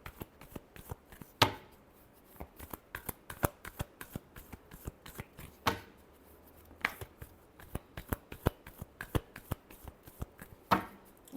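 Tarot cards are shuffled by hand in a quiet room, a quick run of crisp riffling slaps and flutters with several louder snaps, close and alone without speech.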